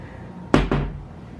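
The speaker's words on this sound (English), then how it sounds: "In here is the fridge." The door of a small hotel-room fridge at a Disney World resort opens with a quick double thump of the seal and latch, fairly close, with no talking.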